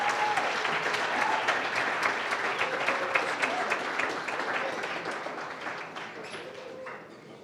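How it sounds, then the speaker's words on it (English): A workshop audience applauding a woman called to the front, with sustained, dense clapping from a crowd that holds steady and then gradually thins and fades toward the end. "can we give her a round of applause?"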